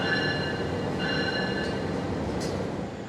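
A Harina train locomotive is shunted to change position at Sidotopo, giving a loud, steady rumble of rail movement overlaid with sustained metallic whining tones and a few brief squeals, with no talk.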